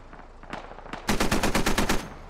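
Machine gun fire in the tactical shooter Squad: a few scattered single shots, then a fast, loud burst of about ten evenly spaced rounds, with one last shot after a short pause.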